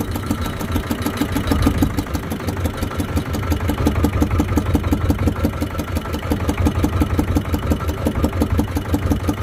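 A fishing boat's motor idles and chugs close by in a fast, steady pulsing rhythm off Karaburun, loud and continuous with no voices over it.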